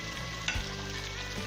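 Fried green chilies drop into a sizzling Sulemani karahi, a close, steady frying hiss with a brief splash-like burst as they land.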